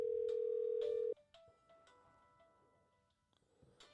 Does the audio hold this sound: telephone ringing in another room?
yes